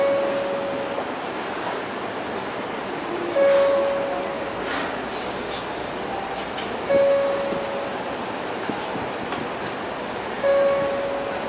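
A Kyoto Municipal Subway 20 series train with a Mitsubishi SiC drive runs steadily on an express to Kokusaikaikan, heard from inside the car: a continuous rushing rumble of wheels and motor, with a brief tonal chime recurring every few seconds.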